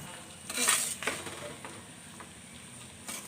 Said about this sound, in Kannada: ಇವಾಗ ತೊಳೆದಿಟ್ಟಿರೋ ಅವಲಕ್ಕಿ ಹಾಕ್ತಾಯಿದ್ದೀನಿ, ಗಟ್ಟಿ ಅವಲಕ್ಕಿ